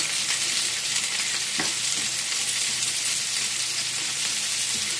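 Sliced white onion sautéing in a hot pan, a dense, constant sizzle close by with faint stirring scrapes underneath, no voices.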